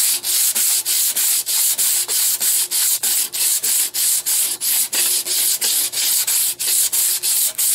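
A Harley Sportster trailer hitch is sanded flat by hand with sandpaper, giving rapid, regular rasping back-and-forth strokes, loud and close, with no voices.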